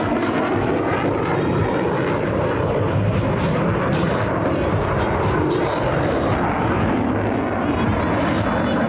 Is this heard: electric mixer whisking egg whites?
no